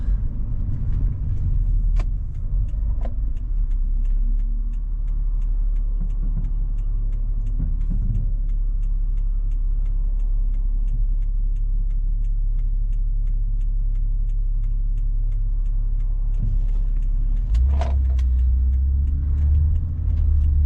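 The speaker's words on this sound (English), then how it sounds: "You see these lorries going past." Heavy lorries driving past on a road in Nilai, Malaysia, on a sunny morning, a loud continuous low rumble of engines and tyres that swells as a vehicle passes close by near the end.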